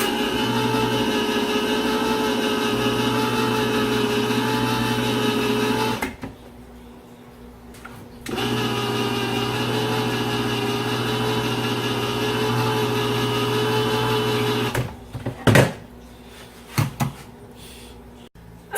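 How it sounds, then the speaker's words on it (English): A handheld can opener grinds steadily around the lid of a can of green beans, a continuous mechanical whir broken by a pause before the cranking resumes, ending in a few clanks as the lid comes free. "Use your trusty can opener"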